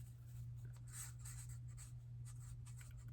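Pen or pencil writing by hand on paper, close and faint, with a series of short scratchy strokes over a steady low hum.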